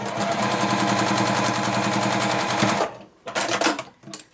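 A sewing machine runs steadily while stitching quilt block pieces for a beginner flower block, a rapid even needle rhythm for nearly three seconds, then two short bursts after a brief pause.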